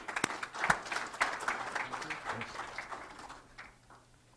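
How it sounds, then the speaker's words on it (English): An audience applauds to welcome a lecturer to a talk on cardiovascular MRI, a dense patter of moderate claps that thins and fades away toward the end. "give him a big round of applause"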